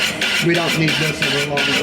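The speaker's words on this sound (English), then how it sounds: "The noise you hear is the wire rubbing on the board." Wire scraping against a board on a spinning centrifugal casting machine during ivy-leaf metal casting, a steady rasping, scratchy rub with rhythmic swells, close by, with someone talking over it.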